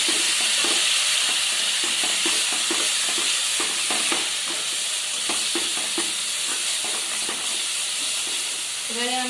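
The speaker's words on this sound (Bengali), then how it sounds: "এবারে মশলা দিয়ে আরেকটু নাড়বো। নাড়তে নাড়তেই হালকা জল দিতে হবে এতে।" Spices are stirred into frying paneer chana masala in a pan, a spoon scraping in repeated strokes over a constant sizzle and steamy hiss, close and clear.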